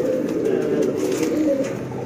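Pigeons kept as a loft of paired fancy and flying birds coo steadily at close range, a soft continuous rolling murmur with no voices over it.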